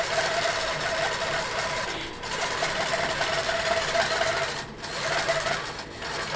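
An HQ Amara longarm quilting machine stitches a cross-stitch teddy bear quilt block, giving a loud, close, continuous mechanical whir that dips briefly twice as it runs on its own.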